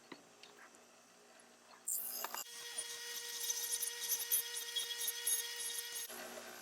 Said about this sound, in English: I used a grinding wheel to remove a lot of the excess material